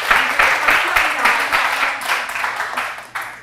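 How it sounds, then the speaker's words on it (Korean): An audience at a lecture applauds in a burst of dense, close clapping that rises and falls in pulses for a few seconds before thinning out. "이럴 때도 보통 박수를 하고 그렇게 합니다"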